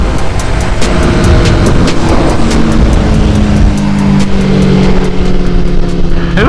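An S1K motorcycle races past at very close range, engine roaring loud and continuous with a fast, rough, buzzing exhaust note throughout.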